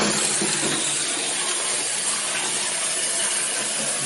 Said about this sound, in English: you can hear the pump as the water running down if you listen